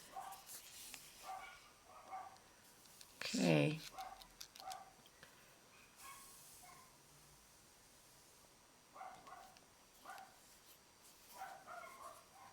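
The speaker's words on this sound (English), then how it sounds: "My dogs are not happy about something outside." Several dogs barking indoors at something outside, in short scattered bursts with one louder yelp, under quiet talk and a soft rustle during a needle tatting session.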